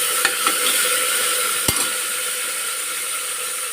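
Tempering spices sizzle in hot oil inside a pressure cooker, a steady bright hiss with a few sharp clicks of a spoon against the metal.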